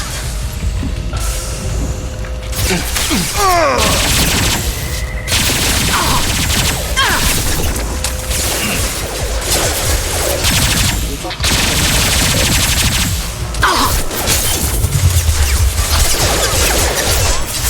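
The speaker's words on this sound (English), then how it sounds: "Taking heavy fire!" Heavy gunfire rattles through a firefight in the Mass Effect 2 Legendary Edition video game, loud, sustained bursts of automatic fire punctuated by sharper shots and impacts, with occasional combat voice lines.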